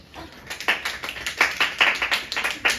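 A small group of middle-school students clapping in a classroom during a math lesson: a short burst of uneven, fairly close hand claps lasting under three seconds, with no talking.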